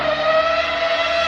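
A 2009 Ferrari F60 Formula 1 car's engine in the Assetto Corsa racing game, a loud, steady, high-pitched V8 whine holding a near-constant pitch throughout, dense with harmonics and no speech.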